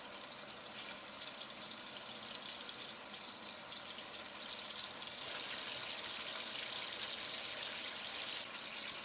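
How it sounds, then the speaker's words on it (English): Tangra fish shallow-frying in hot mustard oil in a pot, a steady hissing sizzle that swells louder partway through and holds at a constant level. "Now I'm going to shallow fry the Tangra fish for 2 minutes on each side."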